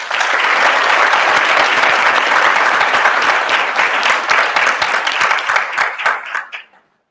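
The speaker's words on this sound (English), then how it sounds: "please join me in one more big round of applause for" A large crowd at a mid-year high school commencement ceremony applauds loudly and steadily, the dense clapping thinning into a few scattered claps before stopping abruptly near the end.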